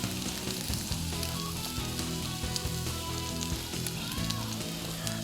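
A steak sizzles steadily in a hot pan with dense, crackling spatters up close, and a low tonal hum runs underneath. No voices are heard.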